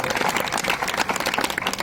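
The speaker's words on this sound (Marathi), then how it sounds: "संजय वालावलकर यांच्यासाठी देखील एकदा जोरदार आपण टाळ्या देऊया" Audience applause at a Marathi theatre stage event honouring Sanjay Walavalkar, a brief dense burst of clapping from a crowd.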